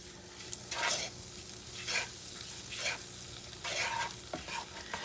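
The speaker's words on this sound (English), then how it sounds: "Let me get the sugar caramelized" Sugar caramelizing in a pan for polenta, with a steady close sizzle broken by several bursts of stirring scrapes, no voices.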